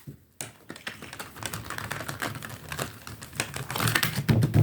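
Oracle cards spread out across a table, giving a close, continuous run of light rapid clicks and rustles that builds toward the end.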